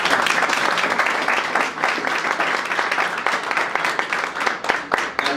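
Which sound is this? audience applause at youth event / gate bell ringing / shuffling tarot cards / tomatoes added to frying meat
audience applause at youth event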